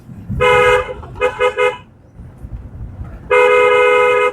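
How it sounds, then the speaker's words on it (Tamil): A car horn honking loud and close during an off-road driving class: one long blast, three quick toots, then another sustained blast over low road rumble. "ஹாரன்"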